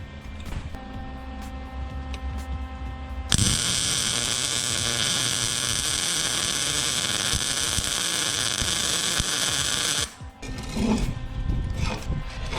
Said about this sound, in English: I'm gonna take this piece and weld it right here to kind of box everything in.